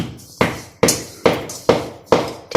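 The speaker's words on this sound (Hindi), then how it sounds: "यहाँ पर दादी जी गुड़ को फोड़ रही हैं" A block of jaggery is broken up by hammering: six sharp, evenly spaced blows about every half second, each with a short decay, close and clear, with no voices.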